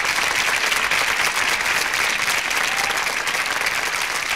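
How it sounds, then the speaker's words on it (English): An audience claps at the end of a song, a dense, steady wash of applause that holds at an even level throughout. "We will listen to the last 30 seconds of clapping."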